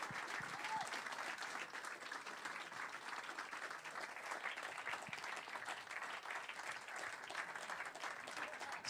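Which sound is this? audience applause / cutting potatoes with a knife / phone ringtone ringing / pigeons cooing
audience applause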